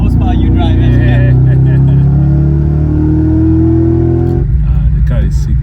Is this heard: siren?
no